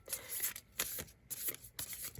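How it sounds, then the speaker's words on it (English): Cards are shuffled in quick riffling bursts, four crisp flutters in a row with short gaps, close and quiet. "I can't shuffle very well."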